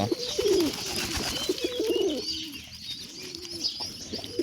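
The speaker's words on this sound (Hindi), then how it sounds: "ઘડીક વારમાં કબૂતર ઘઉં ખાઈ ગયા" Pigeons coo while eating wheat, repeated low throaty coos from several birds close by with a few faint chirps and no talk.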